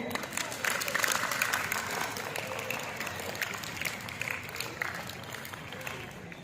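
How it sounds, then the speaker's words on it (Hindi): Loud audience applause after a Hindi school play about grammar, steady broadband clapping from a crowd that holds evenly for several seconds with faint voices underneath. "एक बार जोरदार तालियां हो जाए।"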